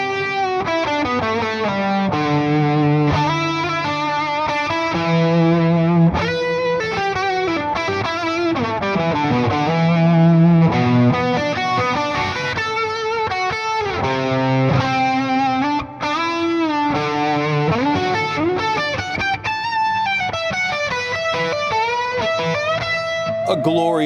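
Shimmering electric guitar through a Dimension C chorus pedal, with a lush, doubled chorus effect, playing chords and melodic lines continuously at steady, fairly loud volume.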